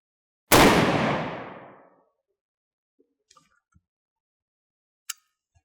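A single sharp .35 Remington rifle shot cracks out loud and close, its roar decaying over about a second and a half, followed by a few faint ticks and a brief distant knock of the bullet striking the target.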